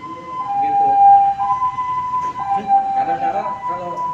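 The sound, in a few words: ambulance siren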